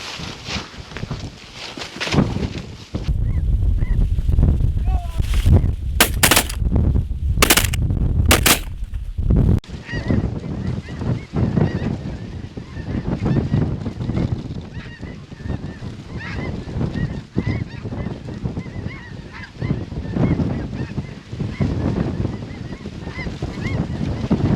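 Snow geese honk loudly and continuously in a dense flock during a North Dakota hunt, with a burst of several sharp, close shotgun blasts early on before the honking carries on steadily.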